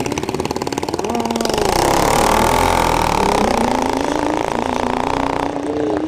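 A stretched Suzuki Hayabusa and a mini bike launch side by side at a drag strip, engines idling then revving hard into a loud rising roar that sweeps upward through gears before easing off, with a commentator talking underneath.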